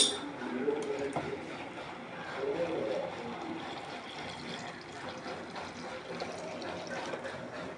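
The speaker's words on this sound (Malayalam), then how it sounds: "ഇനി നമ്മൾക്ക് ഇതിലേക്ക് തേങ്ങാപ്പാൽ ഒഴിക്കണം" Coconut milk pours into a pot of simmering mango fish curry, making a steady liquid gush and splash that stays moderately loud and continuous, with a few brief swells.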